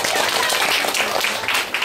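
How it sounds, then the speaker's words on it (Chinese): Brisk audience applause for a correct answer during a magnet quiz game at a hands-on science event, many hands clapping densely and close, with a voice faintly mixed in. "掌声鼓励一下"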